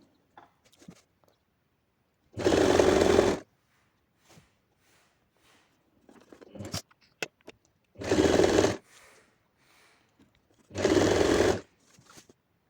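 A sewing machine stitches the hem of a lehenga skirt in three separate loud bursts of about a second each, with quiet handling of fabric and small clicks between them.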